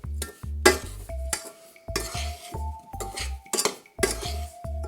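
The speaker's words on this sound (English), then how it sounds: "And just get in here and mix it all in." Sliced bananas being mixed with organic cane sugar in a bowl, with repeated clinks and scrapes of a utensil against dishware in an irregular rhythm, loud and close.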